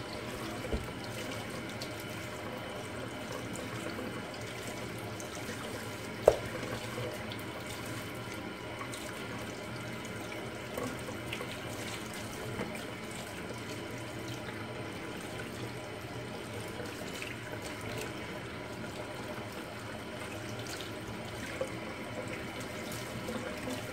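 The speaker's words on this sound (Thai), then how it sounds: "ล้างให้เลือดออกให้หมดนะ" Fish (mackerel) are washed under a running kitchen tap, a steady stream of water splashing into a sink with occasional small clinks and drips, continuous and fairly soft throughout.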